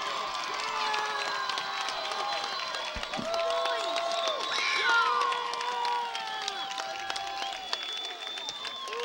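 A high-school football crowd in a stadium cheers and yells, with scattered clapping, whistles and children's shouts forming a dense, steady roar from a moderate distance.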